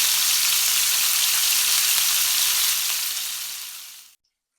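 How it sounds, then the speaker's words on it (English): Bombay duck (bombil) fish sizzles loudly in a hot pan, a continuous crackling fry that fades out and stops abruptly near the end. "You have to be very careful when you're frying this Bombay duck."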